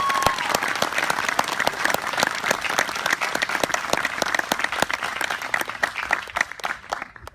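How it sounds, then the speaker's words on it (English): Sustained applause from a graduation ceremony audience, dense steady clapping of a large crowd filling the space, continuing for several seconds before tapering off at the end. "please join me in giving a round of applause to Mahin."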